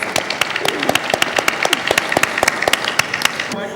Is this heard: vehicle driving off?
no